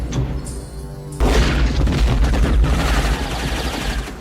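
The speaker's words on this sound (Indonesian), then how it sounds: "Hal itu memicu ledakan besar hingga menewaskan beberapa dari mereka." A sudden heavy boom hits about a second in, followed by sustained loud rumbling and crackling debris noise that fills the rest of the clip.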